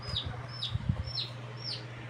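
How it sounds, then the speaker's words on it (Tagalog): Green-dyed chicks bought at a barangay fiesta give high, thin tweets, four short chirps spaced about half a second apart. Soft low thumps and background noise sit underneath. "Ayun po yung nagtutweet. Color green na sisiyo."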